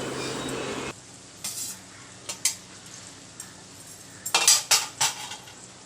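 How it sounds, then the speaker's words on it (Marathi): Noodles being stirred and tossed in a pan for street-style chicken Hakka noodles, a utensil scraping and clinking against the metal in several quick bursts, the loudest cluster near the end, with faint sizzling between. "आता आपण त्यात नूडल्स टाकून चांगल्या प्रकारे मिक्स करून घेणार आहोत"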